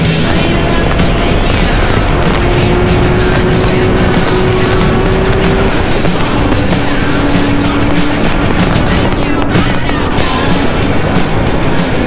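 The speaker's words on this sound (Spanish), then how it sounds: "Vamos a verlos ahorita en sus motos." A group of riders' motorcycles on a Sunday biker outing, their engines a loud, unbroken roar that runs through the whole stretch, with steady drones rising slightly in pitch.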